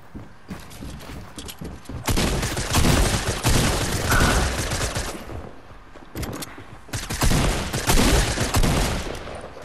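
Rapid gunfire bursts from a video game ring out loud and close, with a dense volley in the middle and a second burst toward the end.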